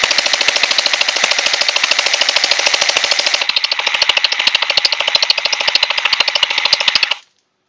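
Anstoy M4A1 gel blaster with an upgraded battery firing full-auto: a steady, fast mechanical clatter of shots, loud and close, running about seven seconds before stopping abruptly into silence.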